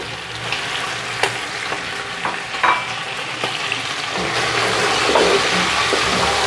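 Green chilies and tomatoes stirred in a hot cooking pot for mutton nalli pulao, a continuous sizzle with scraping spoon strokes and a few knocks against the pot, building slightly louder toward the end.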